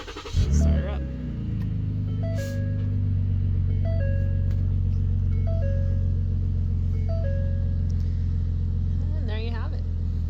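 A 2014 Ford Explorer engine cranks and catches, then settles into a steady, loud idle with a low rumble throughout, while faint repeating chimes sound in the cabin and a brief rustle comes near the end.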